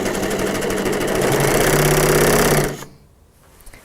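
BERNINA bernette B48 funlock overlock machine running at high speed, up to 1300 stitches per minute, a loud, dense, rapid mechanical whir that stops abruptly near the end, leaving quiet room tone.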